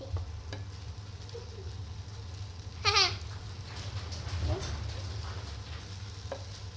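Noodles cooking in a pan, stirred by hand, give a steady low sizzle with scraping stirs, broken by a short bleating-like squeal around the middle and a few faint knocks, with no talking over it.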